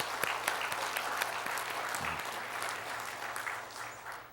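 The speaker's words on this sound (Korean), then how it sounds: "또 하나님 앞에 또 영광의 박수 한번 잠시 올렸으면 좋겠습니다." A church congregation at a Korean Presbyterian service claps in praise after thanking the choir: even, continuous applause from a roomful of worshippers, moderately loud, holding steady and tapering slightly at the end.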